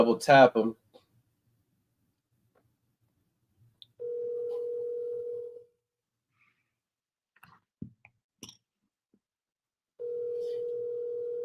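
A telephone dial tone plays in two steady, even stretches of about a second and a half each during a callback, loud and clean, with a voice just before and a few faint clicks between.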